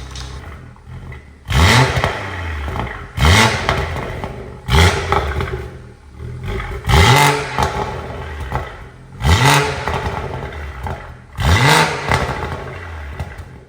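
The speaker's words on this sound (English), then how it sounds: "If you put it in sports, we'll add the burbles." A BMW M140i fitted with a full XFORCE Varex valved non-resonated exhaust in sport mode revs up six times in a row, each loud rising roar falling away into crackling burbles and pops between blips.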